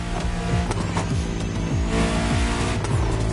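A luxury hypercar with four-figure horsepower in The Crew Motorfest, its engine roaring steadily and loud while repeated upshifts step the pitch up, with tires squealing faintly underneath.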